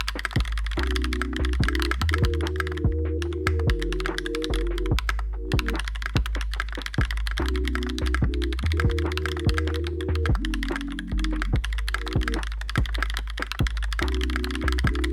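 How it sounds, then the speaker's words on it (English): Steady clacky typing on a Monstargear XO mechanical keyboard with Holy Panda switches in a PVD brass plate, rapid keystrokes in bursts with a deeper thock on the spacebar, close and clear, no voices. "So that's the sound of the Holy Panda switches in the PVD brass plate."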